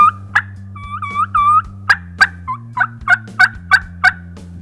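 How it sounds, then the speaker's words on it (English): Wild turkeys gobble loudly and nearby, with several rapid gobbles overlapping and repeating in quick bursts, over a low steady background hum. "they were gobbling, double gobbling on top of each other."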